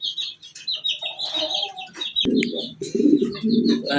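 Mundian pigeons at a sale coo and warble with low rolling calls, mixed with higher chirps and clucks from other birds nearby, and a sharp click partway through.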